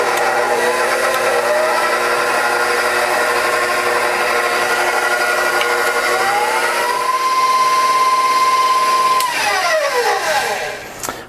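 An electric mixer churns cocoa cookie dough with melted unsalted butter and vanilla, a loud, steady motor whine close by that rises in pitch and then winds down and stops near the end.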